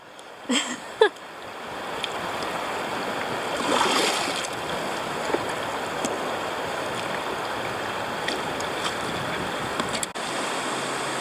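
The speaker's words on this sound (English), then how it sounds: "I think this part over here was the most intense whitewater. A little splashing and bumping over the rocks over here." Whitewater tubing through rapids at Harpers Ferry, West Virginia: steady rushing water with splashes and occasional bumps over rocks, fairly close, with a brief knock near the start and a louder surge midway.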